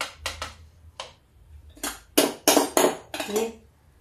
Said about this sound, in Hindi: देखिए स्पून रख देते हैं